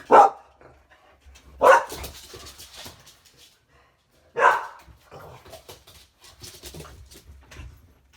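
A dog barks in three sharp bursts spaced a couple of seconds apart, with quieter whimpers and rustling between them.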